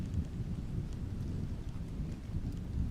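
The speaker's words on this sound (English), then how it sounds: "I really like the rain sound effects." Steady rain with low rumbling thunder in the VR painting game Vermillion, a continuous soft wash of drops and deep rolling sound without voices.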